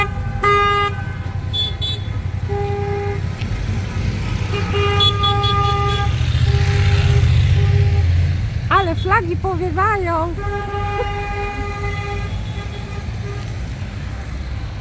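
A Croatian wedding convoy of cars and a bus rolls past on a road, with repeated car horns honking in bursts and a long steady blare. Engine rumble sits underneath, and people talk over it.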